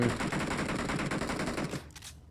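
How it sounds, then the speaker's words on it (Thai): Rapid automatic gunfire in the PUBG Mobile video game, a dense continuous burst of shots that cuts off abruptly, leaving a short tail. "โอ้เสียงปืนเรียกร้องอยู่ตลอดเลยวะ"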